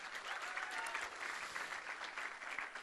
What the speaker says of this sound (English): Give them a lot of applause.